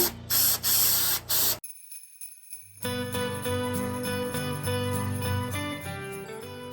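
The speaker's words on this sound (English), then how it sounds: "and spray paint again." A loud aerosol can of spray paint hisses in several short bursts while flocking a Christmas tree, then falls silent before a steady hissing spray resumes and continues to the end.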